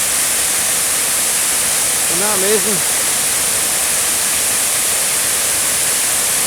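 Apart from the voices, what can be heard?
waterfall behind the Douglas Hotel, Brodick, after heavy rain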